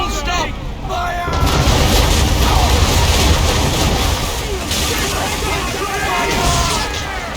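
Ship cannons in Assassin's Creed 3 boom in a dense, sustained barrage during a naval battle, loud and layered with crashing impacts over shouting crew voices.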